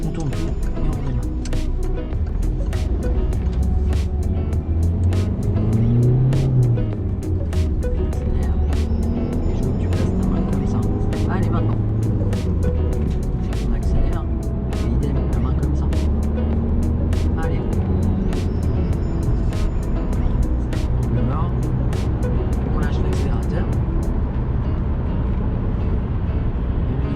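A car pulls away and drives during a driving lesson, its engine and road noise a steady, close drone throughout, with frequent talk from people inside over it.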